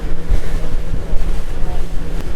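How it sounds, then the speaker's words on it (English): Strong wind buffets the microphone aboard the Flying Nikka, a 60ft foiling sailboat moving at speed, with a constant rumbling roar and rushing water beneath. "Really windy."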